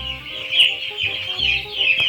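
A dense, steady chorus of chickens cheeps and clucks close by, with lower clucks recurring underneath throughout.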